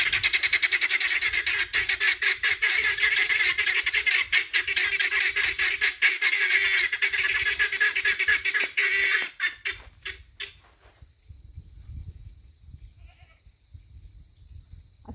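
Guinea fowl squawk loudly at roosters in a chicken tractor, a dense, harsh chorus of rapid repeated calls that cuts off abruptly, leaving a thin steady whistle-like tone and faint low background noise.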